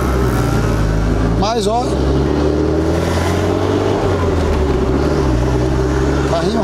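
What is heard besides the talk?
Toyota MR2 Turbo car driving on street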